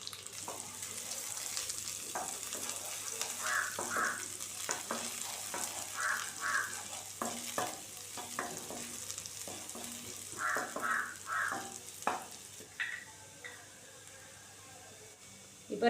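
Butter, chopped garlic and ginger sizzling in a kadai as the base for a vegetable soup, a soft steady fry hiss underneath with intermittent stirring clinks and crow caws in the background.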